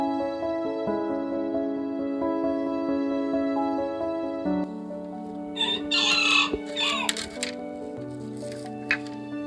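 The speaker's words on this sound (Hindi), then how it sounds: "हमारे मुर्गे भी हमारे पास फिर रहे हैं भाई, मौज कर रहे हैं" A rooster crows loudly nearby, a long drawn-out call, with scattered clucks and rustling noises around it.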